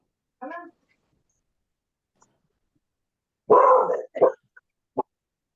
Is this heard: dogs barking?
yes